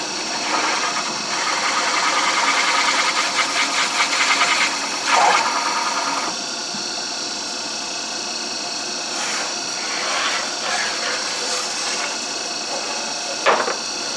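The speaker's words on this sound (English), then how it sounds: "That's just cutting really clean." A countersink cuts cleanly into phenolic material, giving a steady grinding, rasping whir that holds for the whole stretch, with a few brief sharper scrapes along the way and no talking.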